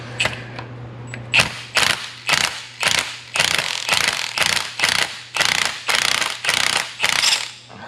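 An impact wrench hammers at a part in the 3.73 limited-slip rear differential of a 7.3L-swapped Ford Crown Victoria, giving about a dozen loud, close, evenly spaced rattling bursts.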